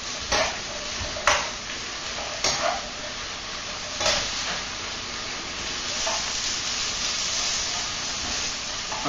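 Chicken frying in a pan, a steady broadband sizzle broken by several sharper scraping stirs in the first few seconds, close and moderately loud with no talking.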